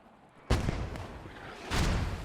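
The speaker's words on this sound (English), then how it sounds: "Those mortars just absolutely pounding away at the Allied defensive positions here." Mortar rounds from Post Scriptum pound Allied defensive positions: two heavy booming impacts land a little over a second apart, loud and rumbling with a decaying tail over quiet background.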